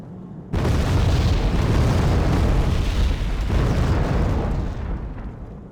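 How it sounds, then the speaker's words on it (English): A sudden roaring artillery barrage in Wargame: Red Dragon, heavy booming explosions that erupt at once and merge into a sustained loud rumble before slowly fading. "we're going to bombard the hell out of the positions here in the corners"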